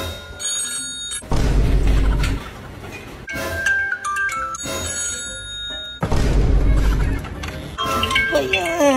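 A phone alarm rings in a bedroom in the early morning, a repeating electronic bell tone sounding in loud bursts with pauses between, while people talk around it.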